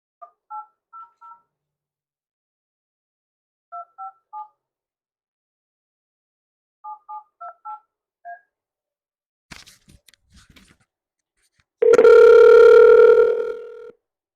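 An old phone number printed on a Tyco train set is dialed on a phone, giving three short bursts of touch-tone beeps, then faint line clicks and a loud, steady ringback tone.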